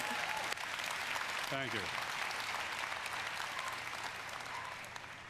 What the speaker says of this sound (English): Wait, applause.